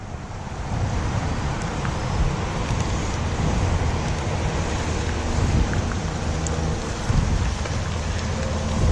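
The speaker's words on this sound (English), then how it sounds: "Jane, it's raining." Steady heavy rain pours down beside a creek while fishing for largemouth, a dense, continuous broadband hiss with no talk, close and even throughout.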